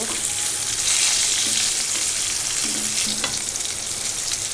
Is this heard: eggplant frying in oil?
yes